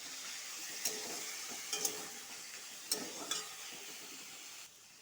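Taro greens frying with boiled black chickpeas, a steady close hiss of sizzling oil broken by a few quick scraping strokes of a spatula against the pan.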